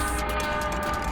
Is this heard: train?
yes